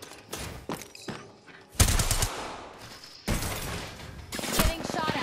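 Rapid bursts of gunfire in an Apex Legends match, loud and close, with several separate volleys and sharp impacts spread across the moment, mixed with game effects and a voice talking at times.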